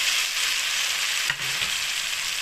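Fried potatoes and okra tipped into spice masala cooking in oil, giving a steady close sizzle with a brief soft clunk of the vegetables landing partway through; no talking.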